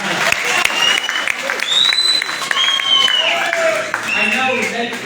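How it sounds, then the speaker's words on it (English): A crowd applauding at an election tallying center, with dense steady clapping throughout and voices and whistles mixed in. "We should clap for all those protestants and the fans."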